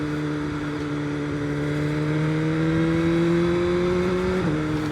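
A BMW M1000R motorcycle accelerates on a twisty road, its engine note climbing steadily and loudly before a brief dip near the end, with no talk.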